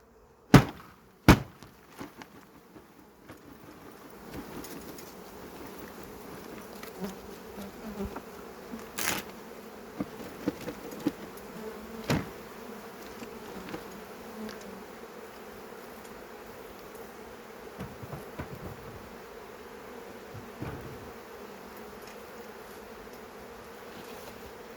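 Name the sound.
honeybees buzzing around hive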